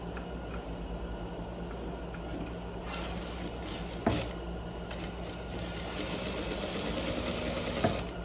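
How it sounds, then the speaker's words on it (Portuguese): A sewing machine stitches a trouser waistband with a continuous, fairly quiet whirring hum, steady throughout with a few faint clicks and knocks. "Vou passar uma costura com um pé de máquina da cintura."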